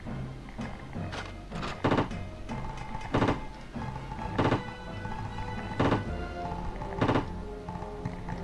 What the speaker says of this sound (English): So many shots from the shotgun to kill this thing.